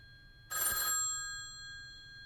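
A telephone bell in a radio drama gives one sharp, loud ring about half a second long, then its metallic tone fades out slowly into quiet room hiss.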